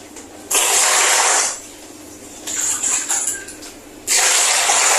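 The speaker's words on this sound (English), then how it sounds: "Then you pour hot water." Hot water poured into a bowl for washing wigs, arriving in three hissing, splashing bursts with quieter gaps between them.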